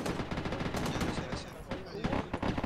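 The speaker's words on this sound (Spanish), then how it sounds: "Te están disparando, te dieron al lado." Dense automatic gunfire in an Arma 3 combat mission, rapid overlapping bursts of shots rattling continuously at moderate distance, with voices talking over the shooting.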